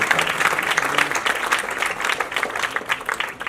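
Applause from an audience at a Hindi music album launch, a dense continuous clapping that holds steady for several seconds and then thins out slightly toward the end.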